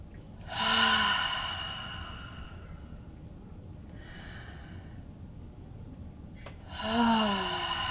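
Slow, audible breaths during a guided breathing exercise: two long exhales through the mouth a few seconds apart, close and breathy, with a quieter breath between them.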